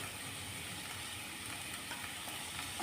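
Mixed vegetables for a quick veg pulav sauté with salt in a pan, giving a soft, continuous hiss and crackle that stays even and low-level throughout, with no voices.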